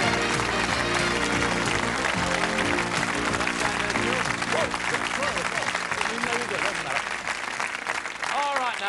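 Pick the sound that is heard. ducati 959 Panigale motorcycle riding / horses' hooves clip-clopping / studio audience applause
studio audience applause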